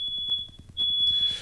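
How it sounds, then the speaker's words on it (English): A smoke alarm emits a shrill, high-pitched electronic beep, sounding in two long tones separated by a short gap, heard faintly over a background of rhythmic low thumps. "Now your smoke alarm is going off."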